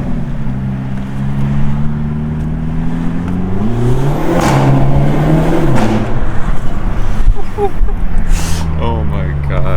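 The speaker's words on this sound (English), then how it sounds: "People will tell me you gotta modify the exhaust, but that's stock." A stock-exhaust Hyundai Elantra N revs hard inside an underpass, its engine note climbing and falling loudly with a booming echo, steady road roar underneath.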